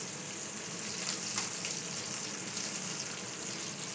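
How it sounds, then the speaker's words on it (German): Chicken leg frying in a pan over medium heat, giving a continuous close sizzle and crackle of hot oil with steady intensity and only small flutters throughout. "Also circa 4 bis 5 Minuten bei mittlerer Hitze braten lassen."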